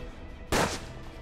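A single close gunshot from the Western video game Hard West cracks out, brief and sharp, against a quiet background.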